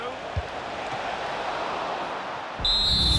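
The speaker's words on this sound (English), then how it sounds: "Full time then, the referee's whistle, and it's a win for Chelsea" A referee's whistle blows for full time at a Chelsea versus Manchester City football match. Steady crowd hiss runs first, then a sharp, shrill whistle cuts in loudly near the end.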